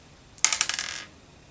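A small KRE-O Transformers toy tire drops onto a hard surface, giving a quick burst of light bright clattering bounces that speed up and fade within about half a second, close and fairly loud, with no talking.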